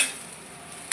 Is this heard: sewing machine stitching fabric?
no